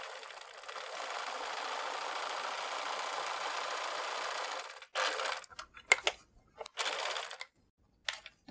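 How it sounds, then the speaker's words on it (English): A sewing machine set for a small zigzag stitches fabric pieces together for a postcard, running steadily for about five seconds before breaking into short, uneven stop-start bursts. "Set your sewing machine for a small zigzag and not too big a stitch."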